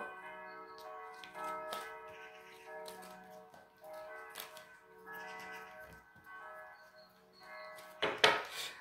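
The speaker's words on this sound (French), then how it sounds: "Elles sonnent souvent, là, les cloches, non?" Church bells ring steadily in the distance, their tones lingering, with a sharp clatter of nearby noise near the end.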